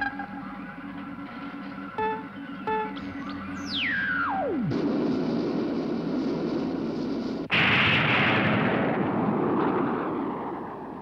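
A film sound-effect sequence from a Japanese tokusatsu Ultra Brothers versus monster army movie: a few sharp impacts, then a steeply falling whistle into a roaring, sustained explosion, with a second loud blast bursting in and rumbling on.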